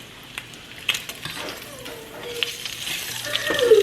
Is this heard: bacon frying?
yes